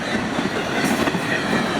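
A long combined Florida East Coast Railway train rolls by at close range, a dense, loud, continuous roar of wheels and cars with faint clickety-clack texture and no voices.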